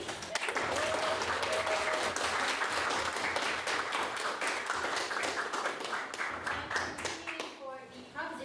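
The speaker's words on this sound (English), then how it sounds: "can we have another round of applause for your maiden speech?" A debate audience applauds steadily for several seconds after a maiden speech, dense clapping that tapers off near the end.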